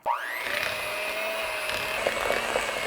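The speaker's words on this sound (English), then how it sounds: "So we're just gonna use a hand mixer and do that now." An electric hand mixer whirs steadily while beating cream cheese and butter for low-carb no-bake cookie dough, a continuous close motor whine with slight variations as the beaters work the mixture.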